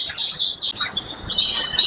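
Imported canaries, Scotch Fancy and Yorkshire breeds, sing in close, loud, high trilling phrases with brief pauses, heard alone without talk.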